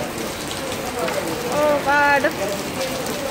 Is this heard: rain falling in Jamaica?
yes